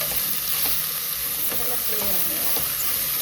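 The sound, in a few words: frying and stirring for mushroom biryani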